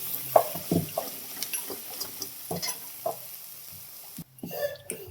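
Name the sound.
ground spice paste roasting in hot oil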